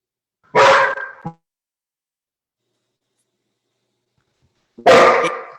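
A dog barks loudly and close by in two separate bursts, about four seconds apart, with silence between them, interrupting a live online question-and-answer session.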